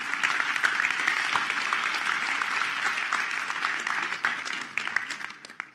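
An audience at a school graduation ceremony applauds with steady, dense clapping that holds for several seconds and then gradually fades.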